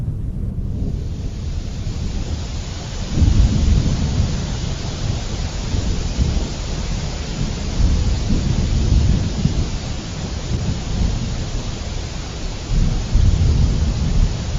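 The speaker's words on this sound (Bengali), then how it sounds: "বাইরে প্রচুর বৃষ্টি হচ্ছে" Heavy rain pours outside during a thunderstorm with strong wind, a dense continuous roar with deep rumbling thunder swelling several times, loud and steady with no voices.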